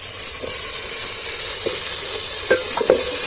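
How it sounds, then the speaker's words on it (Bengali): Chopped tomatoes go into a hot pan for potato curry with a steady, loud sizzle, punctuated by a few brief clinks and scrapes of stirring near the end, with no talking. "এবার টমেটোর কুচিগুলো দিয়ে দেবো"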